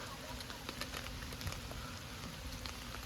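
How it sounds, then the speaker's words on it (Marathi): A faint, dense hiss of heavy rain with crackling drops hitting a surface continues throughout, quiet and distant, with a murmur of talk. "पाऊस जाम येत आहे मित्रांनो बघू शकता तुम्ही जाम पाऊस"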